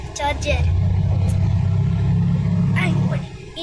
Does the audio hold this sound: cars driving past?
yes